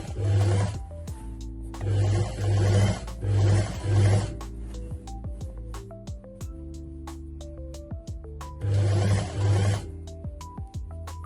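A sewing machine stitches a trouser hem in loud, close bursts of rapid mechanical whirring, stopping and starting several times with quieter handling noises in between.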